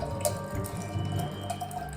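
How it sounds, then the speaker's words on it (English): A cocktail with ice pours steadily into a glass for a couple of seconds, with a soft continuous splashing trickle at close range. "I'm supposed to pour it now into my pretty glass."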